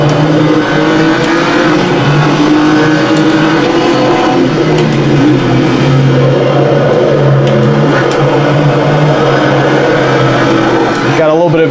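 A race car engine in a PC sim racing game played on a Logitech Driving Force GT wheel drones loudly and continuously, holding a steady high pitch as someone talks over it.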